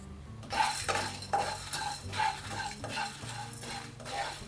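Black pepper dry-roasted in a pan for an Onam curry, with a spoon scraping and stirring in steady repeated strokes, faint sizzle beneath, close and fairly quiet, no talking.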